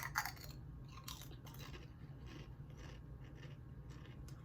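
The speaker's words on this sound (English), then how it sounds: "I forgot how crunchy these Pringles." Someone chews Pringles potato chips close to the microphone, sharp crunches at the start, then a steady run of softer crunching bites over a low background hum.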